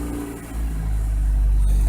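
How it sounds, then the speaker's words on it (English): A car engine revs up as the throttle is worked after a throttle body and air intake cleaning, the pitch climbing and loudness swelling over a couple of seconds, close by with no talk. "you want to mess with the throttle a little bit"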